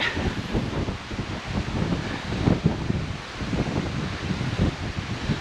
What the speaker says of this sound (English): Looks like the wind comes this way often.